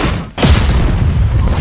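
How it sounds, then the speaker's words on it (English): In Roblox Strongest Battlegrounds, a Genos attack smashes a tree: a sudden loud boom bursts in after a brief lull, then a dense, rumbling crackle of destruction follows, close and alone. "Genos can take out trees with his attacks"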